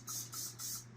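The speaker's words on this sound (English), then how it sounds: "we're going to spray some pieces of parchment that I cut out earlier" Cooking spray from a can misted onto small squares of parchment in a kitchen: three short, close hissing bursts in quick succession, with no talk.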